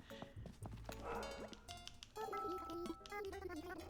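A dog barking indoors during a Christmas-season livestream, a few short yips and whimpers mixed with other faint household sounds, quiet and somewhat distant.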